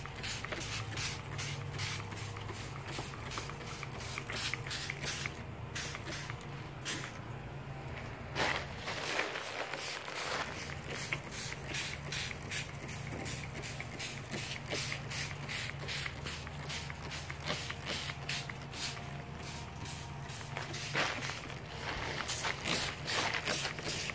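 A sprayer misting greenhouse tomato plants gives a soft, steady hiss that runs throughout, with faint shuffling footsteps and rustling leaves.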